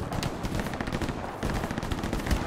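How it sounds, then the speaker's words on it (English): Gunfire in the World War II shooter Hell Let Loose: dense, continuous bursts of automatic and rifle fire crackling close and loud with no pauses, like a heavy firefight. "He's shooting at me"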